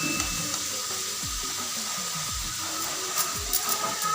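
Tomatoes sizzle as they go into a hot frying pan for a Chhattisgarhi rakhiya bari vegetable curry, a steady close hiss with a few soft stirring thumps beneath it, no talking.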